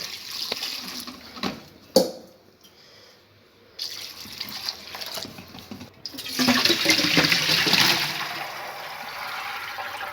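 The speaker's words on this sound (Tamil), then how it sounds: "இன்னொரு பாத்திரத்தில் எடுத்து தண்ணி ஊற்றி அலசிக்கிறோம்" Water runs and splashes into a pot of cauliflower, with a pause and then a louder, steady gush of pouring and rinsing; no one speaks.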